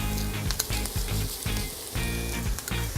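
Onions and mushrooms fry in olive oil in a pan, a steady close sizzle with crackling bursts and soft scraping as the pan is moved, with no talking.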